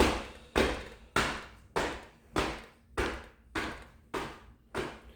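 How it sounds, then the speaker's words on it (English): Light fists tap rhythmically on the hip points during a self-acupressure massage, nine soft, evenly spaced thumps close by, each fading quickly, with no talk. "light fists hitting your hip points"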